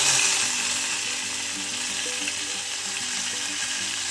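Mustard seeds and dried chillies fry in hot coconut oil with a dense, even sizzle and a fine crackling patter that holds steady from start to end, with no voices.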